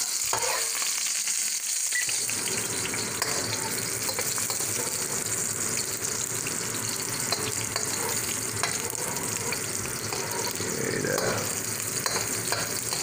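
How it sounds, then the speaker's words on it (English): Garlic sautéing in a pan for chicken adobo crackles in a loud, continuous sizzle, with stirring scrapes running through and no talk. "he saute the garlic till it gets like a brown color"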